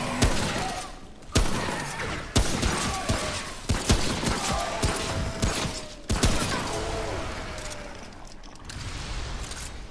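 Repeated heavy gunshots in the co-op shooter Remnant, a dozen or so loud, close blasts in an uneven rhythm with metallic rattles and ringing tails between them.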